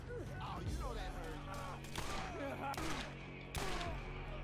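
Gunfire in the video game Borderlands, a rapid burst of several shots with sharp repeated cracks and impacts, mixed with game effects and someone talking under it.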